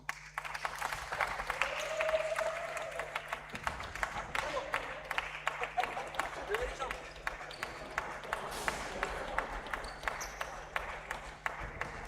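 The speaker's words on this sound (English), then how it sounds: "I want a big applause for the team of France" Applause from the crowd at a Euro 2026 men's P40 match between France and the United Kingdom, a sustained spread of clapping in a large hall, moderately distant, with an announcer's voice over it.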